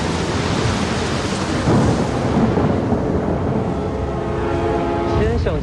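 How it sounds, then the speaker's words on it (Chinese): Rolling thunder during a rainstorm, a long, continuous low rumble that swells and fades, heavy and fairly close, with rain noise throughout. "只是凑巧撞上打雷天而已。"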